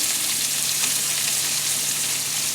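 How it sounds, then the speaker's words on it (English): Diced boneless pork loin sizzles steadily in a hot wok, a continuous close crackle and hiss with no pauses and no voices. "I just took pork loin, boneless pork loin, diced it up on a nice hot pan"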